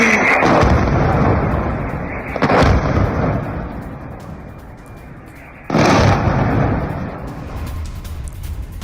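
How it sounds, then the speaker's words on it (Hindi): Explosions in the sky from missile interceptions over Israel: loud booming blasts, two sharp ones a few seconds apart, each followed by a rolling rumble that slowly fades. "मिसाइल इंटरसेप्शन के बाद धमाका होता है।"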